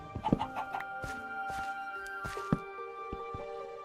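Chickens cluck in Minecraft, a few short soft clucks and calls spread unevenly over a faint, quiet background.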